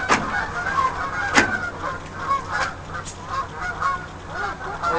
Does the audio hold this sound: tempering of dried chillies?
no